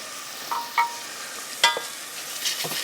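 Onions sautéing in a pan give a soft continuous sizzle, broken by a few sharp scraping stirs of a utensil against the pan, close and clear with no talking.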